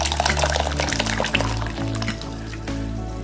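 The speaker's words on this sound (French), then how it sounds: "je fais chauffer, je fais bouillir de l'eau" Water pours and bubbles in a pot being heated to a boil for a bain-marie, a close liquid gurgle with a low steady hum beneath.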